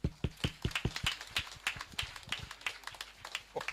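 Sparse, uneven hand claps from a small group at a Tamil meditation gathering, honouring the volunteer team; individual sharp claps patter irregularly at close range without any talk.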